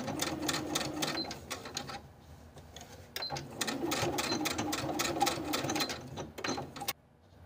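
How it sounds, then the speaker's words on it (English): A sewing machine stitches across the top edge of a sleeve lap on a dress, running in rapid mechanical bursts with a brief pause, close and clear. "we're going to sew right across the top edge of the lap to keep it in place"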